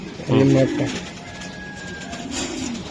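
Paired grizzle Giribaz high-flyer racing pigeons give a brief, loud, low cooing burst near the start, then the sound drops to a quieter background with faint tones.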